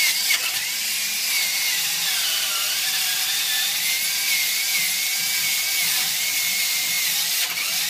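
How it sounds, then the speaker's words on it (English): A drill boring a hole into a block of soft soapstone, a steady high-pitched grinding whine held continuously and close, with no talking. "continue to drill out a little bit more."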